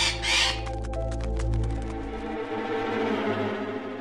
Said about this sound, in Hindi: कितना सुंदर तोता है ना